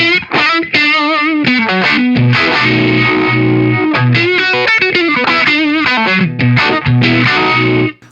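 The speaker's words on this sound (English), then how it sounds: "I'm going to add the overdrive back in, the MANALISHI drive," An electric guitar runs through a Manalishi overdrive pedal, playing a busy distorted riff of chords and bent single notes, close and loud, with no voice.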